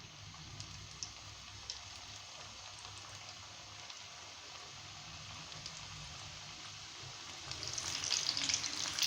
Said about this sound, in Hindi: रोल हमारे फ्राई हो रहे हैं।